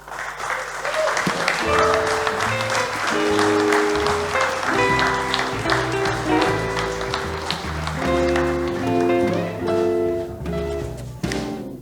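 Applause from an awards-ceremony audience in a hall welcomes a presenter to the stage, steady and sustained for about twelve seconds, mixed with loud tonal walk-on music throughout.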